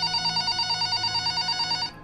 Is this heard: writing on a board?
no